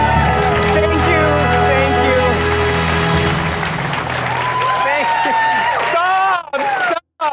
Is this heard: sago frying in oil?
no